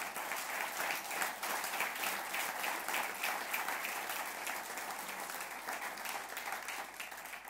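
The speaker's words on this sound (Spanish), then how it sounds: "Dale un buen aplauso a Cristo, el Señor." Congregation in a church service applauding steadily, a dense wash of many hands clapping that holds at an even level for several seconds, with no voices rising above it.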